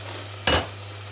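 Stuffed chicken breast frying in a pan gives a quiet steady sizzle over a low kitchen hum, broken by one brief clatter of a utensil.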